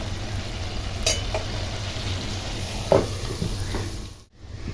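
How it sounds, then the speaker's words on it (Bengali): Fish curry gravy bubbling in a pan on the stove, its lid covering it, producing a soft, steady simmering hiss with a few faint clinks, close and continuous, and no one speaking. "ঝোলটা ফুটে গেছে এবার আমি ঢাকনা তুলে নিচ্ছি"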